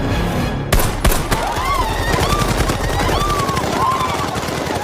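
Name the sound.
gunfire in a film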